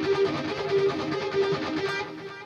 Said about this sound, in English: With the harmonizer, it sounds like this.